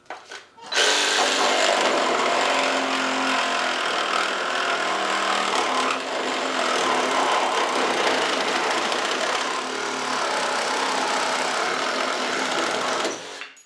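A Black and Decker power saw cutting through a clamped wooden 2x4, a steady loud buzzing whine that starts abruptly, holds for about thirteen seconds with slight dips, and stops.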